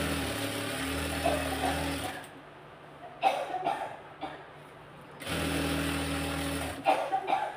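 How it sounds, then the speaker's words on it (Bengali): A sewing machine stitches fabric in steady whirring bursts, running for a couple of seconds, pausing, then running again, close and alone with faint handling noises in the gaps. "এই যে এটা আমি সেলাই দিচ্ছি, হ্যাঁ সেলাই দিচ্ছি"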